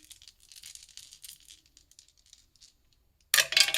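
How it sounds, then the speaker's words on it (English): Dice rattle in a rune casting tray, a light, busy clatter that tapers into a quiet pause, then a sharp louder burst of rolling and clicking right up close. "I'm going to go ahead and get the dice with the rune casting tray."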